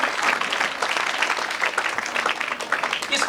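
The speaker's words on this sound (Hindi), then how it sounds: "एक बार फिर जोरदार हरभजन जी के लिए ताली हो जाएगी।" An audience at a Sanskar Sena gathering applauds Harbhajan with sustained, dense clapping from many hands, loud and steady throughout, with a voice faintly present beneath it.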